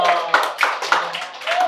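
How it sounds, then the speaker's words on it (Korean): A small church congregation claps in a few uneven bursts during a sermon, with a handful of distinct hand claps mixed among murmuring voices. "우리 박수 한번 줄까요?"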